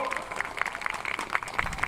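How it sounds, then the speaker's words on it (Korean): Crowd clapping at a Korean railway union strike rally, a brisk outdoor burst of many hands with a voice faintly mixed in. "박수 쳐주십시오"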